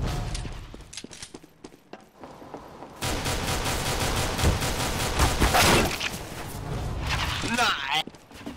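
Gunfire in the video game CS:GO: sparse shots at first, then dense rapid bursts of automatic fire that carry on loudly, with a voice talking over part of it.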